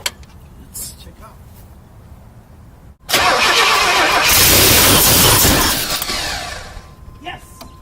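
A Buick T-Type car engine cranks briefly, then catches and fires up loudly, roaring steadily for a few seconds before easing toward idle, close by, with some faint talk early on.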